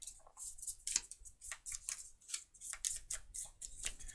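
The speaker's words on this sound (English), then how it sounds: "I'm going to shuffle them again" Small idol tiles from the Tindaya board game are shuffled by hand on a table, making a quick run of close, crisp clicks and clacks in an irregular rhythm.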